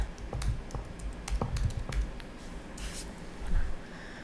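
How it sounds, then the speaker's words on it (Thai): Fingers type on a computer keyboard at close range, a quick irregular patter of light clicks and taps for a few seconds with a slightly harder cluster of keystrokes near the end, and no voice. "แล้วก็ พิมพ์นะ พิมพ์ อันนี้เราก็จะ พิมพ์คำว่าวิดีโอสคูลนะฮะ"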